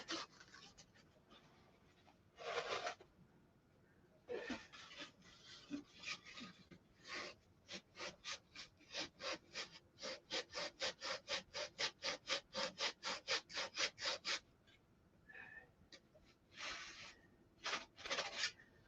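Sandpaper rasps across the trailing edge of a wooden aircraft stabilizer in bursts of quick back-and-forth strokes, some slow and separate and others in a fast, even run, close and fairly loud with no voices.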